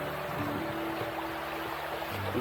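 Shallow river at a forest campsite in Rawang, Selangor, running in a steady, continuous wash of water noise with low hum and tonal lines underneath, no voices.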